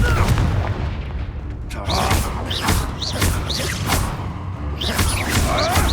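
Repeated Confringo blasting curses explode in the Hogwarts Legacy video game, a dense run of loud booms and whooshing impacts arriving every second or so amid continuous combat noise.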